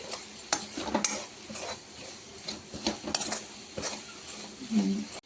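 Egg and garlic masala fries in oil in a pan with a continuous sizzle, punctuated by frequent metal spoon scrapes and clinks against the pan as it is stirred; a voice speaks faintly now and then.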